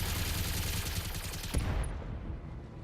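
Rapid machine-gun barrage in the mech game Battletech, a dense, loud, continuous rattle of fire for about two seconds with a heavy impact near the end, then a fading tail.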